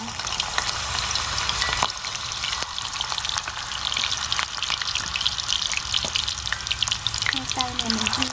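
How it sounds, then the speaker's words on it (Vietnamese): Potato pieces fry in hot oil in a cast iron pot, a dense, loud, continuous sizzle with crackling pops throughout and occasional stirring clinks; a voice speaks briefly near the end. "Bây giờ mình sẽ chiên khoai tây nha cả nhà."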